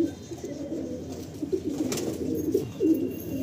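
A pair of Madrasi pigeons coos steadily up close, a soft, low, throaty burbling that continues throughout with small swells in loudness.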